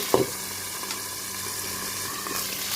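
Chicken liver and gizzard frying in a pan, a steady, close sizzle that continues throughout, with a brief clatter near the start.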